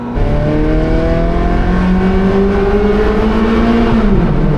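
A car engine with an Atlantic-built X-pipe exhaust, cruising easily under 3,000 RPM with a loud, close, smooth droning note that climbs gradually, then dips as the revs drop.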